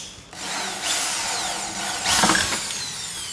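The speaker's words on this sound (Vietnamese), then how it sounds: "Đó, khoan nó." A power drill bores into an electrical wall box, the motor whining and rising in two loud bursts with grinding bites into the material, close and with no voices over it.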